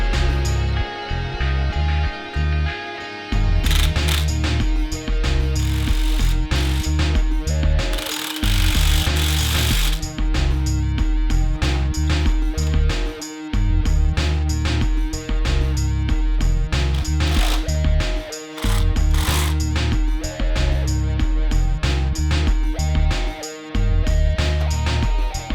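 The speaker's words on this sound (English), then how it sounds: "Once it's seated, we can bolt it down and then reattach the heat shields." A ratchet wrench tightens bolts on a car's exhaust manifold: loud, close, fast clicking pawl ratchets in steady runs, broken by short pauses and brief metallic knocks, with no voices.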